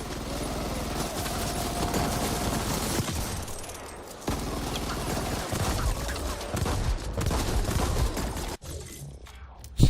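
A submachine gun fires in rapid, dense bursts in the game The Ascent. The sound is loud and continuous, with brief pauses and metallic scraping and impacts between volleys.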